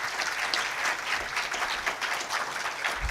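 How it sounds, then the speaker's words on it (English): Audience applause at a Teacher's Day celebration, a steady dense wash of many hands clapping at moderate level, sustained without pause and with no voices on top. "Let's hear a big round of applause for everyone"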